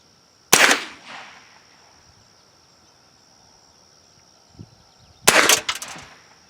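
An M&P 15-22 rifle fires two sharp, loud reports about five seconds apart, each with a short trailing echo, over a steady high insect buzz outdoors.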